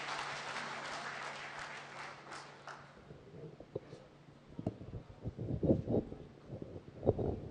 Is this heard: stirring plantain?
no